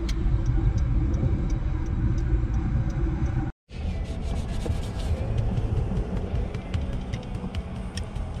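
Steady broadband road rumble and engine drone from inside a moving car, with faint rhythmic ticking like a turn signal, continuous apart from a brief dropout midway.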